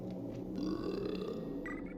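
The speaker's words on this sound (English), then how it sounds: "It has burp noises." A drawn-out cartoonish burp from the Jimmy Neutron: Boy Genius GameCube game, one low rumbling belch lasting about two seconds and heard alone.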